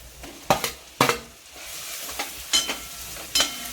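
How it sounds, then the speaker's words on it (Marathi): Potato sautéing in a pan with red chilli powder, chili flakes and chaat masala, a steady close sizzle broken by several sharp scraping stirs of a spatula, with no talking. "नंतर हा बटाटा परतून घेऊया."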